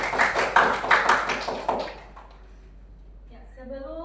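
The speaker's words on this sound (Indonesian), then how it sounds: "Tepuk tangan buat Firza" Schoolchildren in a classroom clap for a classmate, a short burst of quick clapping lasting about two seconds before it dies away and a voice starts speaking.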